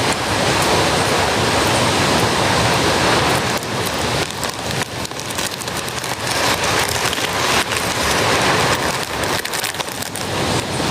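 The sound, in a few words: rain with wind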